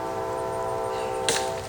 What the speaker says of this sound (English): Figures I'd come out here to do this and we'd have a train come through.